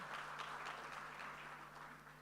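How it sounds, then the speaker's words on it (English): Applause for the Prime Minister of St. Vincent and the Grenadines from an audience at a formal launch event, a steady, fairly faint wash of many hands clapping, heard from a distance without a break. "Please give him another round of applause."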